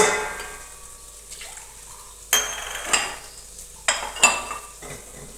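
Metal clangs and scrapes in a home kitchen while eggplant curry cooks, a few sharp knocks as a pan is covered with its lid, ringing briefly over a faint background hiss.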